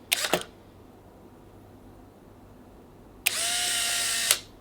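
Two bursts of whirring motor noise from a Polaroid SX-70 instant camera: a short double click-whir near the start, then a steady, louder mechanical whir lasting about a second.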